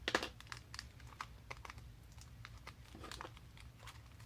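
A scalpel picks and scrapes at the plastic packaging of a neon watercolor set, giving close, irregular ticks, scratches and crinkles with no talk.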